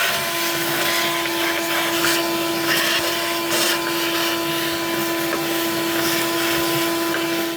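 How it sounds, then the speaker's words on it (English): A vacuum cleaner runs continuously up close while cleaning out a disassembled DeLorean engine, a loud steady whine with occasional rattling and sucking bumps as debris is drawn in. "All right, more vacuum."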